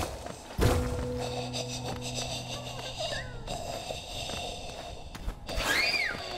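An explosion in the video game Hollow Knight lands as a sharp, heavy thump with a ringing metallic tail. Softer game effects, shuffles and a rising chime-like whistle follow.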